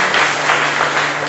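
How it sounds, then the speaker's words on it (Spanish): Audience applause at a church-style community gathering, a short burst of dense, steady clapping that fills the whole moment without voices. "Un aplauso a Yesenia y a Paz."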